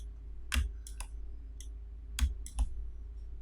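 Sharp mouse clicks while working in 3D modelling software, five or six quick, close, isolated clicks spaced irregularly over a quiet background, two of them louder.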